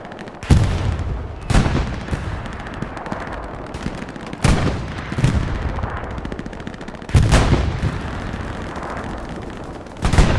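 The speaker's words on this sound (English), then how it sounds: "big artillery strike by Adam" Heavy artillery thunders during a competitive Hell Let Loose match on the Omaha Beach map, with loud, close booming blasts landing repeatedly over continuous rattling gunfire and battle noise.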